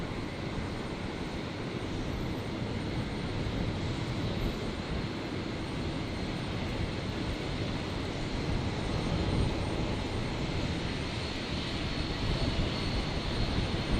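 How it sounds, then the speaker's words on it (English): A Virgin jet airliner arriving from Nadi lands on runway 01 right at Brisbane on a stormy night, its broad, steady engine roar sustained throughout with no talk. "Virgin 176 here, just about to touch down."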